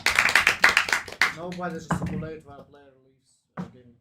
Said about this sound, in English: Applause for player number 2.